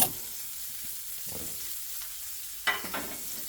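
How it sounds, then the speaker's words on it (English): Cayenne peppers frying in hot bacon fat, a steady broadband sizzle with occasional stirring clunks and a sharp burst of spatter near the end. "And we'll get those going in the bacon fat."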